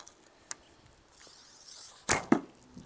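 A vintage Ben Pearson Superjet bowstring snaps with a sharp twang and quick thud of string kick, preceded by a faint tick, in a quiet outdoor setting.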